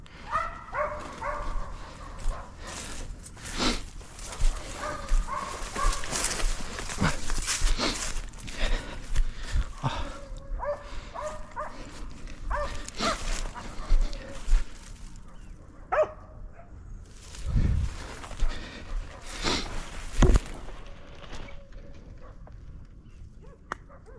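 Hunting dogs bark in scattered bursts during a hunt outdoors, some yelps near and others farther off, with sharp sporadic thwacks and rustling between them.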